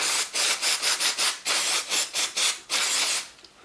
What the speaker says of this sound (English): Let's give the fuel tap a clean up.